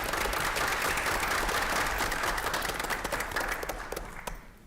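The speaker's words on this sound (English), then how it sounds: "Little clap, little applause." Audience applause at a school district board meeting, a steady burst of clapping that fades out toward the end without any talk.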